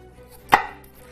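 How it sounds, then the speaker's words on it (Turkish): A single crisp knife chop through an onion on a cutting board, close and clear, with quiet background before and after. "Ya soğan istediğiniz gibi kesebilirsiniz"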